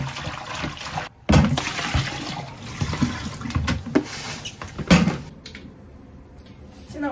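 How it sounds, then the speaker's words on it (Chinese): Freshly cut vegetables are rinsed under a running kitchen tap, with splashing water, clattering handling and bursts of flow that fade near the end. "切菜洗一下"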